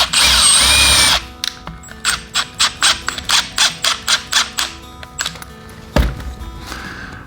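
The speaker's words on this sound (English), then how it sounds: "we're going to screw these together again" A power drill drives screws into wood for a DIY birdhouse, starting with a long continuous whir, then a rapid series of about fourteen short, close bursts as the screw is driven, ending with another brief spin of the motor.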